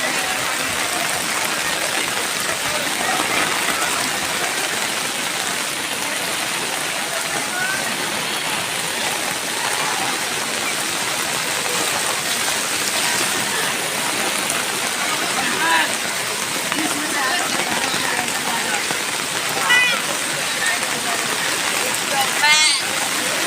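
Heavy monsoon rain pours down in Nalasopara near a school and a lake, making a dense, unbroken hiss of water that fills the whole stretch, with a few faint drips and spatters near the end.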